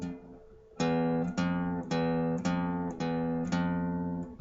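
A firmly fretted guitar string rings out with a clear, sustained tone, plucked repeatedly in a steady rhythm of about seven even notes after a faint start, heard alone at moderate-to-low volume.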